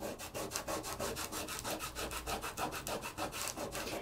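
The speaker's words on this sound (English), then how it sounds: "all I have to do is burnish this with my finger" Gold foil on paper burnished with a fingertip, giving a steady run of close, rapid rubbing strokes in an even back-and-forth rhythm with no talk.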